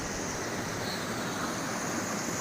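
Cold Brook Falls roars in a continuous broadband rush of falling water beside an old 1924 footbridge, steady and fairly loud with no voices.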